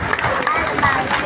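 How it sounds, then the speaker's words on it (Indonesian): An audience at a bus launching event breaks into clapping and cheering, a loud, continuous wash of hands and voices filling the space close by, with some shouting mixed into the crowd noise. "Luar biasa, tepuk tangan dulu nih Pak."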